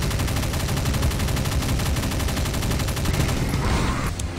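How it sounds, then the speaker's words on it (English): Rapid machine gun fire rattles continuously in Brutal Doom on PC, a loud, dense stream of evenly spaced shots that cuts off near the end. "I do not like the machine gun"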